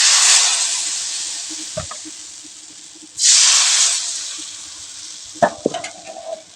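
Thin rice-flour chapri pitha batter poured into an oiled kadai bursts into a loud sizzle that fades, then flares again at a second pour, followed by a few sharp clanks of a utensil against the pan.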